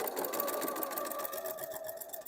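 A sewing machine stitches in reverse through a quilt-as-you-go mug rug, a steady close whirring hum running continuously for a couple of seconds with no talking.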